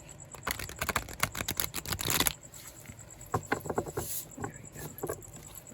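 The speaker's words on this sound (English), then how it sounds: "Really shuffling good when you do that." A deck of playing cards being shuffled by hand, with a dense riffling flutter for about two seconds followed by lighter, scattered card taps and shuffles, close and clear.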